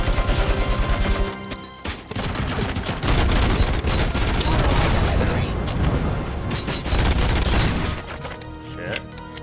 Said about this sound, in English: Really getting shot at here.